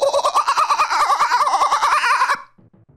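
A human voice imitates a warbling wild bird call during Counter-Strike 2 play, a rapid trilling, wavering whistle-like sound sustained for about two seconds, then cutting off.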